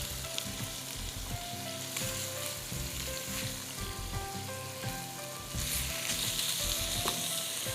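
Mutton keema frying in a pan, a loud continuous sizzle up close with frequent scraping and clinking stirs that grow a little louder near the end.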